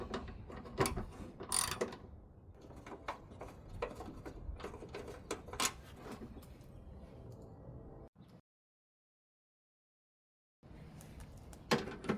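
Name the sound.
socket wrench ratchet loosening fender bolts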